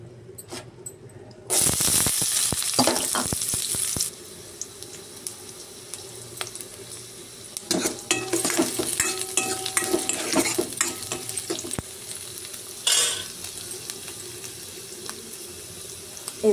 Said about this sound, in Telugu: ఆయిల్లో కొంచెం అల్లం వెల్లుల్లి పేస్ట్ యాడ్ చేస్తున్నానండి